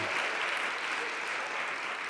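A church congregation applauding warmly for a new baby, a dense steady wash of many hands clapping that holds evenly throughout, fairly quiet and with no talk over it.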